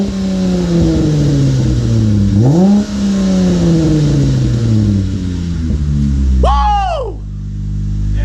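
A car engine and exhaust rev and accelerate during a ride, rising droning pitch sweeps through gear changes, loud and close, with a voice heard briefly over the engine.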